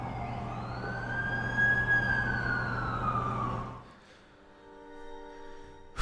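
An ambulance siren in The Amazing Spider-Man 2 video game wails in a single long rising and falling sweep, loud and close, then cuts off into quieter game ambience.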